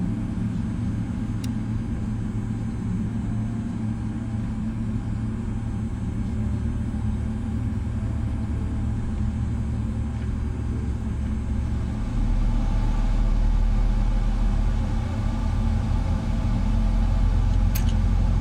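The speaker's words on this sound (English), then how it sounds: "Start engine 1." Boeing 777-300ER engine 1 spooling up during startup in MSFS 2024, a steady low jet rumble and whine that grows slightly louder partway through, heard without talk.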